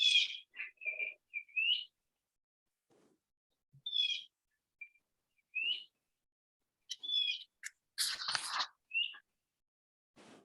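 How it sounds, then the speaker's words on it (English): Small birds chirp and whistle in short, scattered bursts, clear and fairly close against an otherwise quiet background. "You should hear a little birds in the background"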